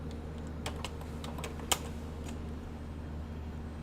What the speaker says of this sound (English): Type in SPY.